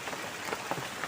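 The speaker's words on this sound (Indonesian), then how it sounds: "ini mau hujan, sekarang sudah hujan." Light rain patters steadily outdoors beside a tilapia fish pond, a soft even hiss of drops on surfaces with no voices.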